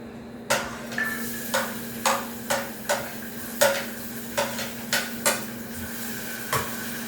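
Onion and garlic frying in a pan, with about a dozen evenly spaced spatula scrapes and clinks over a steady sizzling hum, close up and with no talking.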